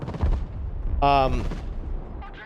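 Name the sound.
aircraft strafing run gunfire in Broken Arrow video game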